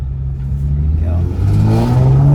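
A Nissan 370Z engine revving in a rebuilt wrecked car, a low engine note rising in pitch and loudness over a couple of seconds, close and strong, with a voice briefly speaking.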